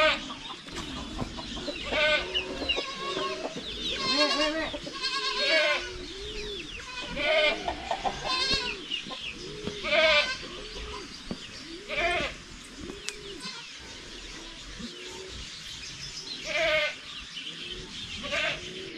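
A young goat kid on a farm bleats repeatedly for milk, its calls rising and falling among clucking chickens and other farmyard animal noises, fairly close and continuous throughout.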